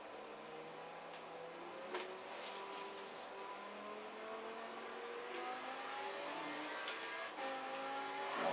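Car speeds along a freeway against traffic in Forza Horizon 4, engine tones rising through gear changes with rapid upshift sweeps and brief clicks, faint and continuous.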